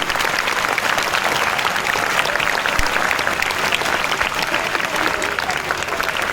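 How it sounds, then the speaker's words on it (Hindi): Loud, dense applause from a crowd at a school Independence Day celebration, continuous, steady clapping filling the whole stretch, close and full, with a voice faintly under it. "एक बार जोरदार तालियों से स्वागत करें।"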